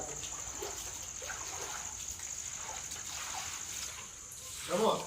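Water being poured and splashed across the floor of a Sri Rama temple during cleaning, a continuous rushing wash with a brief gush near the end, heard under people talking.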